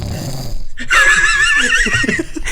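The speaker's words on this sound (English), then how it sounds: "That's snoring, man." A man snores loudly and close, with rough, rasping breaths and a wavering, whistling tone that stretches over a couple of seconds after a brief quieter stretch.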